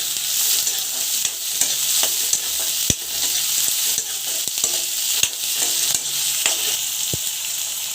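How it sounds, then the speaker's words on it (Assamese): Chopped vegetables and green chilli sizzle steadily in a pan for restaurant-style veg Maggi while a spoon stirs them, scraping and tapping at irregular intervals over the constant frying hiss. "এতিয়া দুবাৰমান লৰাই দিব।"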